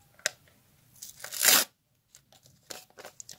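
A thin paper Kinder surprise packet is torn open by hand, with a couple of quick rips building to one loud, sustained tear, then soft crinkling of the paper.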